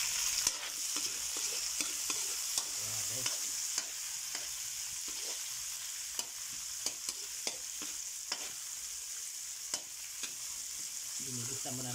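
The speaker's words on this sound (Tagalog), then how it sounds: "Gisa muna tayo ng bawang sibuyas luya." Garlic, onion and ginger sauté in a pan for a squid pinakbet, with a constant close sizzle punctuated by frequent sharp clicks and scrapes of a utensil stirring against the pan.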